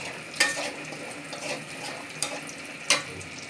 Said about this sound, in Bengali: দেখেন আমার পেঁয়াজ দিয়া হয়েছে, লাল লাল হয়ে গেছে।